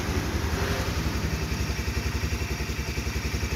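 A black 2010 Honda CBR 150 motorcycle in original, well-kept condition idles close by. The engine gives a steady, even low putter with a fast regular pulse and a slight mechanical clatter, with no talking.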